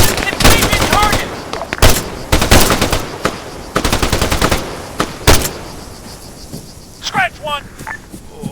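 Loud bursts of automatic machine gun fire in the military shooter game ARMA III, several close rapid volleys in quick succession, then fading to sparse shots and radio-style shouted voices.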